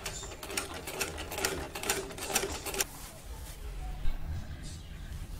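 A sewing machine stitches a boy's kameez in a fast, even rattling run for about three seconds, then stops, leaving quieter room noise with faint handling.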